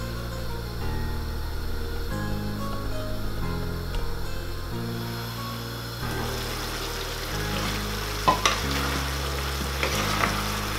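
Goat feet cook in a covered pot with a steady bubbling sizzle, heard close. Low, stepped background music plays underneath the whole time.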